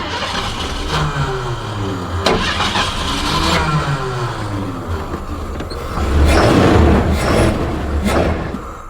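An old 39-year-old Ford F150 truck engine cranks with a rhythmic starter whir for several seconds, then briefly catches on starting fluid and revs louder near the end, close up.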